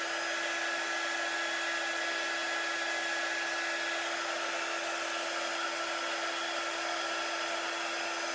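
A handheld dryer blows air over wet chalk paste, a steady unbroken whoosh with a constant high whine, close and even from start to finish.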